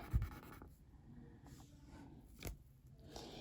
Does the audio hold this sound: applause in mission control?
no